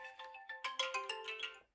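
An incoming-call phone ringtone plays alone for a couple of seconds, a bright electronic melody of stepped tones, quick rising notes repeating close by before cutting off.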